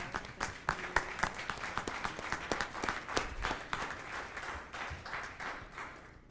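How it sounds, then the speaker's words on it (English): Scattered applause in a city council chamber for the fire department, a modest number of people clapping with distinct individual claps audible, strongest at first and thinning slightly toward the end. "So can we all give the fire department applause?"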